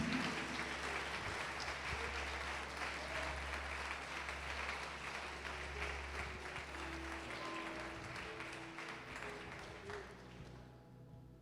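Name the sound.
church congregation applauding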